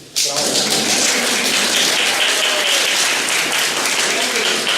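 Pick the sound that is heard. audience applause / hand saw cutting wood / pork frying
audience applause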